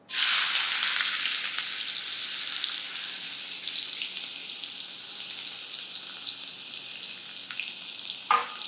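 Onions hit hot oil with crackled cumin seeds and burst into a loud sizzle that holds steady with fine crackling, followed by a sharp clink near the end.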